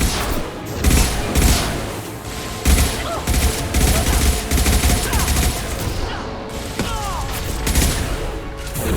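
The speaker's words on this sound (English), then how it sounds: "Focus fire on my target! Agreed. Lock and load. Firing concussive shots." Sci-fi gunfire in a Mass Effect shooter battle: dense, continuous bursts of rapid shots and heavy concussive blasts crackle and boom loudly across the whole stretch, with no pauses.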